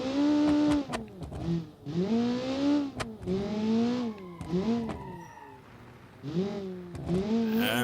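A Group B Lancia rally car in BeamNG.drive revs hard through repeated accelerations, its engine note climbing and falling in pitch in several loud bursts with brief dips between them.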